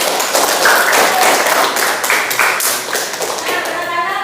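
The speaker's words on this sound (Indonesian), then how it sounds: "Tepuk tangan untuk kita semua" A classroom of children claps their hands together in a dense, lively burst that continues throughout and slowly thins toward the end, with voices mixed in among the clapping.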